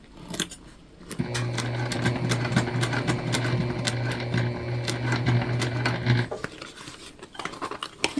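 A sewing machine stitches an Aurora shoulder bag, running steadily for about five seconds with a close mechanical whir and rapid needle ticking, with fabric handling before and after.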